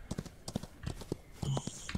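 Horse hooves clip-clopping at a walk in the Old West game Outlaws of the Old West, a steady series of light, close hoof knocks with a brief tonal effect near the end.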